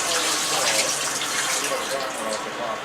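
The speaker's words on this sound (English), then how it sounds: "I'm gonna rinse them off. I'll go to the sink real quick." Sweet potatoes (yams) being rinsed under a running kitchen sink tap, a steady broadband gush of water that continues without a break and stays close and fairly loud.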